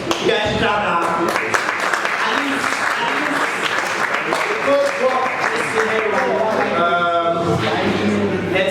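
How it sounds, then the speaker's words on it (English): Audience at a DevFest tech event claps for an AI agent deployment, a steady burst of applause lasting throughout, with some talk and cheering mixed underneath. "Okay, guys, our agent has been deployed. You guys should clap now."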